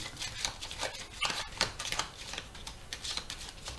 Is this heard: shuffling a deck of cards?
yes